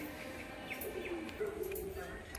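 A pair of giribaz pigeons coos softly and low, a faint, steady murmur of calls close by with a hint of background noise.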